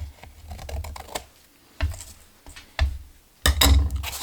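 Paper being trimmed for a handmade art and junk journal: crisp, close snipping clicks, a quick cluster at first, then a few louder isolated cuts with pauses between, and no talking.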